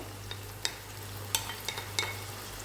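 Champignon mushrooms frying in a pan, giving a soft steady sizzle under a low hum, with a few light clicks and stirring taps scattered through.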